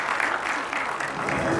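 An audience at an achievers' meet claps steadily, a dense, continuous patter of many hands throughout, fairly close and loud.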